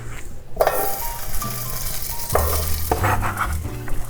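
Onions sauté in melted vegan butter, a close, steady sizzle with repeated scraping stirs and light clinks of a spoon against the pan.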